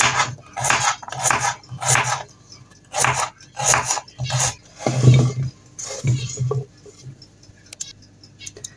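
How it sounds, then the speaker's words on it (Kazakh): Carrot chopped with a knife on a cutting board for a Kazakh lamb and potato dish, a series of close, crisp rhythmic cuts with knocks on the board, tapering to lighter, sparse taps. "Сәбізді турап алам."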